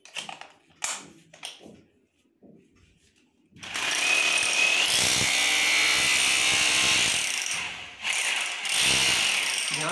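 An Ingco heavy-duty 26mm rotary hammer (RGH9028) runs in hammer-only demolition mode with a demolition bit, loud and close: a few handling clicks, then a sustained rapid hammering rattle lasting about four seconds, a brief pause, and another burst.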